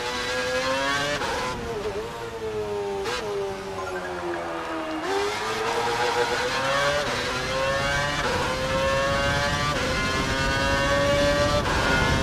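A Formula 1 car from F1 2012 screams through its gears, the engine pitch climbing, dropping at shifts and climbing again in a continuous loud high-revving whine with no talk.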